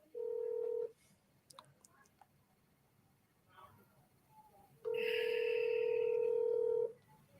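A telephone call to a realtor, with two long ringback tones on the line, a short one first and a longer one later, and faint keypad beeps and muffled sounds between them.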